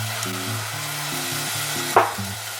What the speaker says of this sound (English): So now I'm going to add a little bit of red wine to remove a little bit of the meat flavor and aroma.